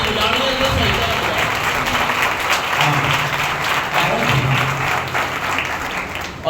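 A congregation at a Sunday church service claps continuously, a dense steady wash of applause mixed with voices in the room, loud and sustained for the whole stretch.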